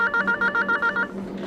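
A telephone rings in a Pakistani hospital office, its bell trilling in rapid bursts that repeat about five times before cutting off, then a faint room tone remains.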